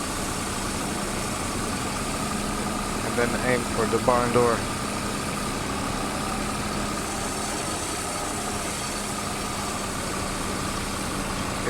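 A tractor engine from a farming video game drones steadily at a constant idle-like pitch for the whole stretch, with a person briefly talking over it.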